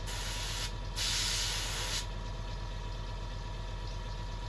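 A steady hiss of blown air dries primer on a BattleTech miniature, a close continuous rush that swells briefly louder before settling back to an even, unbroken stream.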